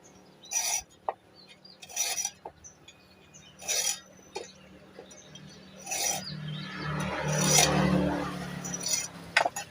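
A hacksaw blade rasps in short bursts deepening a clip groove on an automatic scooter's kick-start lever, several separate strokes, then a longer, louder stretch of scraping cut near the end.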